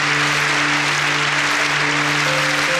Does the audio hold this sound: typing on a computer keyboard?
no